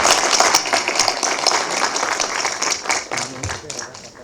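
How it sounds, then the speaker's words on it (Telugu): An audience at a trailer launch event claps in a steady patter of applause that runs throughout, with someone talking over it. "అందరూ చప్పట్లు కొట్టున్నారు"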